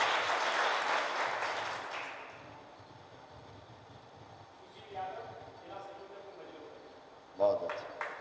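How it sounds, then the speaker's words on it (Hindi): Brief applause from a crowd at a cow-themed religious discourse, a burst of clapping in the first two seconds that fades out, followed by quieter sounds and a short sharp noise near the end. "एक बार तालियां बजाओ श्यामा श्याम जी"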